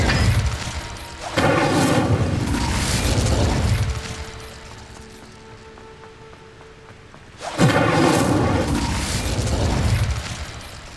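An Incendio fire spell in Hogwarts Legacy goes off as a loud, roaring blast that rumbles for a few seconds, fades to a quiet hum, then a second heavy burst erupts and roars again.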